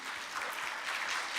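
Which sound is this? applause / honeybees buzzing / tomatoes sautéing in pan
applause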